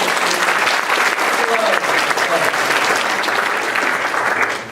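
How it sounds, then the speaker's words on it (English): A college lecture audience gives a loud, sustained round of applause, dense continuous clapping filling the hall and tapering slightly at the end. "Let's give Community Education a round of applause."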